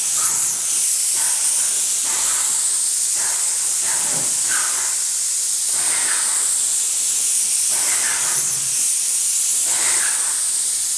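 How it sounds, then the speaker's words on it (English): A paint spray gun hisses loudly and steadily throughout, its close, continuous spray broken by short rhythmic passes as the gun sweeps back and forth over a surface, with no talking. "Keep the same distance and the same speed the entire time you're spraying."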